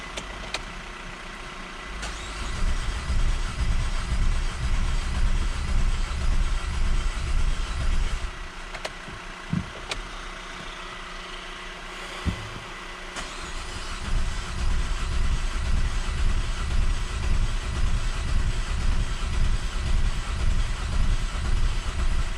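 A car engine cranked after a new diesel particulate filter is fitted, a continuous loud mechanical rumble with brief dips and clicks, running steadily throughout without speech.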